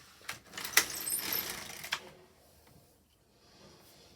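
An LK150 knitting machine carriage is pushed across the bed, a short rattling, clicking sweep of about two seconds with a few sharp metallic ticks, then near silence.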